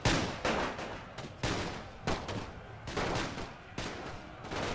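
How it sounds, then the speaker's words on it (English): Dense, rapid volleys of rifle and machine-gun fire roll on in a World War I battle video game set at the Gallipoli cliffs, with repeated loud bursts overlapping throughout and no pauses. "Open fire into those Turk bastards."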